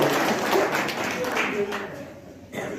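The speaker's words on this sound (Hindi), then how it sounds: "एक बार जोरदार तालियां बजाएं" Audience clapping at an outdoor unveiling ceremony, a brief burst of dense applause from a crowd that thins out within a few seconds.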